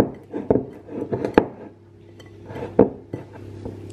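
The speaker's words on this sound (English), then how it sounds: "So I'm just going to mix it with a flat spoon for a minute." Dense baking mixture stirred in a bowl with a flat spoon, giving scraping, clinking knocks against the bowl in irregular bursts, with a few sharper taps standing out over a low steady hum.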